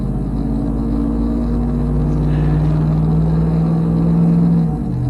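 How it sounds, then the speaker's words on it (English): A truck engine drones at close range with a low, steady rumble and a slowly rising whirring tone as it revs, continuous and fairly loud throughout. "I know you can't hear me when my truck revs up."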